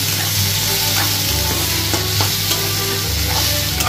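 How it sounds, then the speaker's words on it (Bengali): Chopped large onion frying in oil in a pan for egg and potato dalna, a steady dense sizzle with a low hum beneath and a few soft scrapes of stirring, close and continuous. "দিয়ে ভালোভাবে এটা এখন ফ্রাই করে নেব।"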